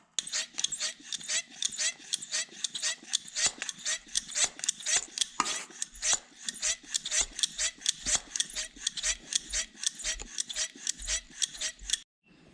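A hand pump pressurizes a Peterbilt 359 truck system for a leak test, with roughly two dozen even, rhythmic squeaking strokes, close and fairly loud, stopping abruptly at the end.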